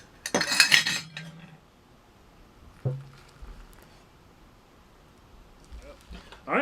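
A utensil stirs instant mashed potatoes in a dish, producing a dense burst of metallic scraping and clinking, a second shorter scrape a couple of seconds later, then near quiet.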